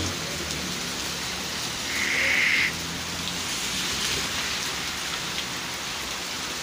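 Steady rain pours down continuously, a dense patter on surfaces with a brief high whistling tone rising over it.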